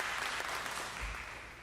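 Audience applause for a man called up before the crowd at a talk on the Malcolm X assassination, a steady wash of clapping that holds at an even level and then swells sharply at the very end.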